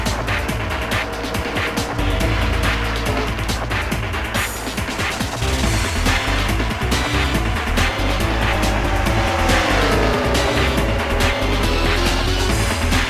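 Race cars in a racing video game roar around the California track as the green flag drops, their engines a continuous loud drone with rising and falling pitch sweeps as the pack moves through the turns.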